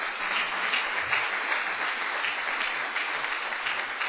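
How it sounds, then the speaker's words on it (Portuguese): A congregation in a church service breaks into sustained applause, a dense, even roar of many clapping hands filling the room without pause. "Quem pode dar uma salva de palmas para o Senhor?"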